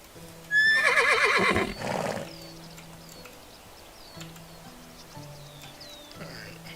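In the game Medieval Dynasty a horse lets out one loud, close whinny that trails into snorting, followed by quieter birdsong and a soft background music tone.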